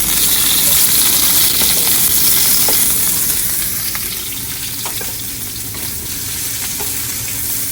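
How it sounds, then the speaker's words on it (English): Mushrooms and carrots for a shrimp stir fry sauté in a hot pan with a loud, steady sizzle and hiss, plus a few faint clicks of stirring, easing slightly quieter partway through. "Some mushrooms, some carrots, and then we're going to saute those for about 4 to 5 minutes until they're a little brown"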